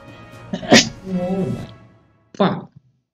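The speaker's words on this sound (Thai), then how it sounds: "เป็นกูจามพอดี" A streamer sneezes once, sharp and loud up close, followed by a short vocal exclamation and a brief second burst of breath.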